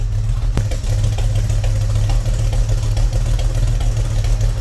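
A Ford Falcon XB coupe engine idles steadily with a low, even rumble, close by and fairly loud, a single tap near the start.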